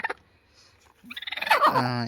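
A broody hen sitting on a clutch of eleven eggs makes a short cluck, then a quiet gap, then a close, rising run of rapid throaty clucks.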